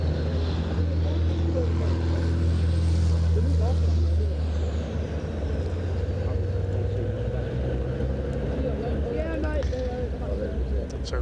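Racing trucks circulate behind a pace truck at Thruxton circuit. Their engines make a loud, steady, low roar that fills the whole stretch, with a faint rising whine partway through.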